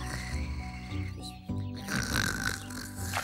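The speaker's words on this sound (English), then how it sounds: "It sounds like someone snoring." Snoring from inside a bush in a children's cartoon comes as slow, rumbling, guttural breaths over a busy layer of background music.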